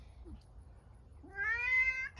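A single drawn-out cat meow rises and then holds steady. It sounds fairly close, against a quiet background with a faint low hum.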